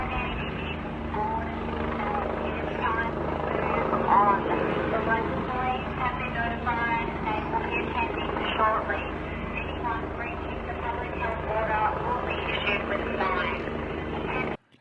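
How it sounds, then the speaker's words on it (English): Police helicopter flying overhead during a public health lockdown, broadcasting an amplified announcement from the sky; steady rotor and engine drone with a loudspeaker voice carrying over it, continuous and fairly loud throughout. "look at this helicopter announcing from the sky the lockdown"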